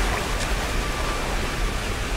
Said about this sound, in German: Ach ja, hier war da die Höhle mit dem Wasserfall.